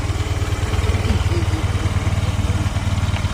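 A Honda Activa scooter idling close by, its small engine giving a steady low, rhythmic putter throughout, with people talking faintly over it.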